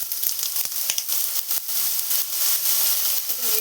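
Small diced potato pieces frying in hot oil, a steady close sizzle with crackling pops and scraping stirs while making a spicy drumstick flower dish.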